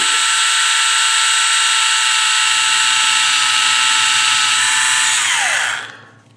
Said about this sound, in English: And then you just take your drill bit and you can kind of catch that little divot.